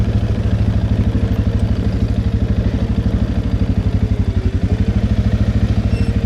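Motorcycle engine braking on a trail ride in Nunavut's Arctic: a steady, loud, close low engine drone with rapid even firing pulses held throughout, no throttle surges.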